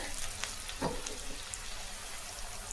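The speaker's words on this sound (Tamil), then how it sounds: "இந்த அளவுக்கு நல்லா பொரிஞ்சு வரணும் வெங்காயம் சேர்ந்து வறுத்து பாருங்கள்" Big onions fry in a pan for a Tamil brinjal thokku, a steady broadband sizzle with a brief stir or splash partway through, moderately loud and close with no talking.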